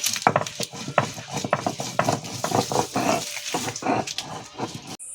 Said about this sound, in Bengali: এবার কিন্তু আমি পোস্ত সর্ষের সাথে কাঁচা লঙ্কাও বেটে নেব।